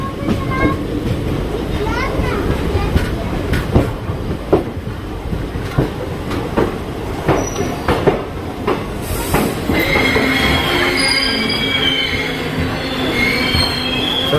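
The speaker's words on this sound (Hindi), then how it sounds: "तो गाइस प्लेटफॉर्म नंबर 3 पर अपनी ट्रेन पहुंच चुकी है" A passenger train on the Kathgodam–Moradabad line pulls into platform 3 at Kashipur Junction, its wheels squealing and rumbling close by in a steady roll, with high screeching tones rising toward the end as it slows.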